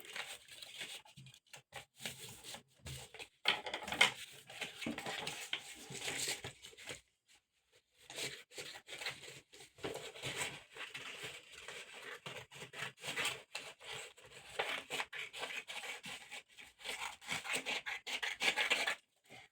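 Scissors cutting fabric pieces for a handmade bag, quiet intermittent rasping and rubbing snips with rustling cloth, close up, pausing briefly partway through, no talking.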